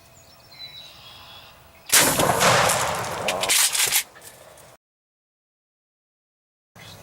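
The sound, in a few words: shotgun shot at a turkey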